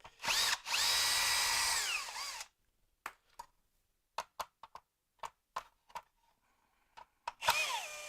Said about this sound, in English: long screwdriver for the next part